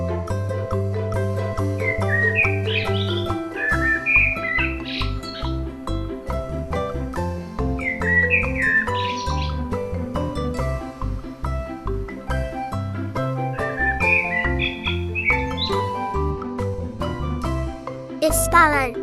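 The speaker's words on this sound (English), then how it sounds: "It's a blackbird." Blackbird song comes as brief warbling phrases every few seconds, fairly soft beneath a steady musical accompaniment.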